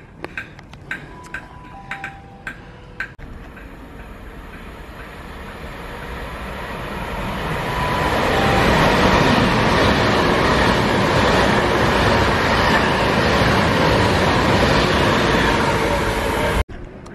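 Class 57 diesel locomotive 57309 at a station: a few sharp clanks at first, then a rising, sustained rumble and roar that builds loud and steady as it works nearby.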